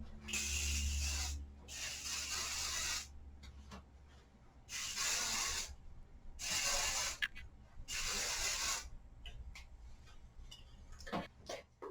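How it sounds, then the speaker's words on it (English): Several bursts of aerosol hairspray hissing, close by, sprayed through hair, with short pauses between them and light handling ticks and rustles in the gaps. "after I spray hairspray throughout my whole hair"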